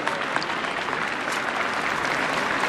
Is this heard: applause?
yes